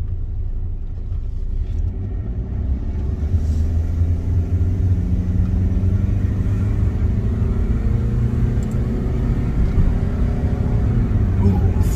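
A Mitsubishi Chariot with the 4D68T engine, rescued from a scrap yard, drives along with a steady, close, low rumble. The engine drone holds constant throughout with no break.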